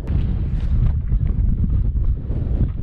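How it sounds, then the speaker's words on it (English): Strong wind batters the microphone on an exposed hilltop hill fort in Shropshire, a loud continuous low roar with gusty swells throughout and no voices. "the wind is quite, woo, yeah, terrible up here"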